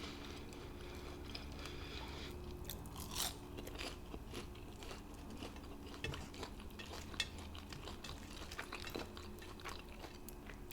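Popeyes fried chicken and French fries being bitten and chewed close up, with scattered crunchy bites and wet mouth sounds over a steady low background hum throughout.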